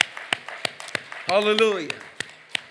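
Congregation at a Korean church service clapping in sharp, evenly spaced claps, close and fairly loud, with a single voice speaking briefly in the middle.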